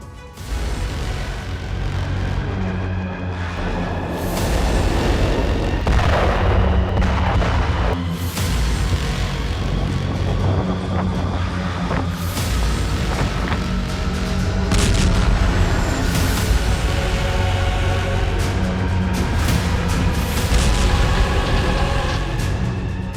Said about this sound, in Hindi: नॉर्थ कोरिया की आर्टिलरी से ही लुहांस्क से गोलीबारी जारी थी